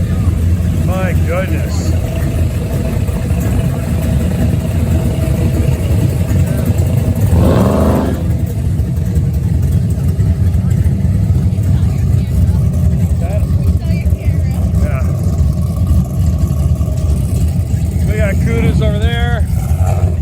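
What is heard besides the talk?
Camaro hot rod engine revving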